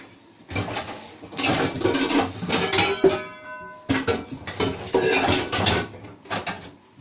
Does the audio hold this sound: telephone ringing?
no